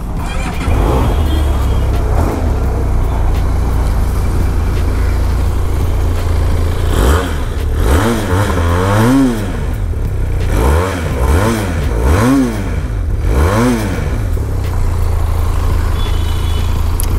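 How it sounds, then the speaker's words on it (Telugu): Benelli TRK 502 motorcycle with a BS4 engine idling, then revved repeatedly in several rising and falling bursts, loud and close over a steady exhaust rumble. "సో ఎగ్జాస్ట్ సౌండ్ అయితే అలా ఉంటుంది అనమాట"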